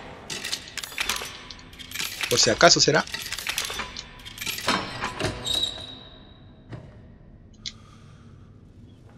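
Coins being collected in Resident Evil 7, with several short metallic clinks and jingles over a stretch of gameplay while someone talks in Spanish, followed by a few sparse clicks.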